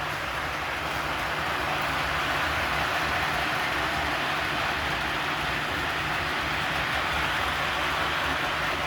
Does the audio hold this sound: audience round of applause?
no